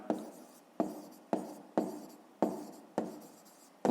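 Pen writing on paper for a math exercise, seven sharp strokes in a steady rhythm, each a quick scratch fading out, close and alone.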